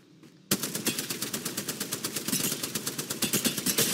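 Rapid, loud gunfire from the Mozambique shotgun in a video game, a steady stream of close blasts at a regular quick rhythm that starts abruptly and continues to the end, heard on its own.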